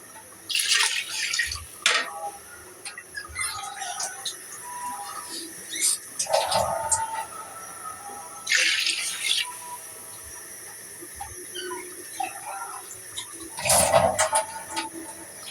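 Water splashes into a cooking pot in a few short pours, with birds chirping faintly in the background.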